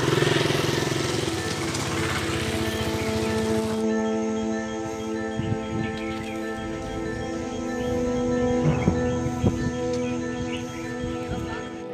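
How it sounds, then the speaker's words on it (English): A motorcycle engine idles and revs nearby outdoors in Kutch, a steady droning hum with a few sharper throttle blips, loud at first and then settling lower. "I and Paritosh cajoled the remaining guys to bring up their motorcycle for our signature photo"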